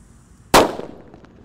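A single sharp bang from a paper-wrapped Colorful Thunder firecracker goes off close by, a loud crack that rings and fades quickly into quiet.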